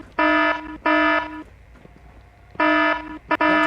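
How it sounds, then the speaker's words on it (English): Alarm going off in the Fallout 4 video game, a loud harsh buzzing tone sounding in repeated bursts separated by short gaps. "Maybe we can do something about shutting the freaking alarm off?"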